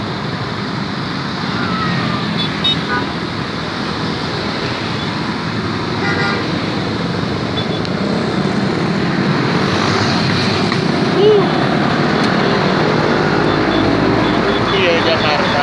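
A traffic jam at the Buaran traffic light by the flyover in Jakarta, with a dense continuous rumble of idling and creeping vehicles, a few brief horn toots, and voices talking over the steady noise.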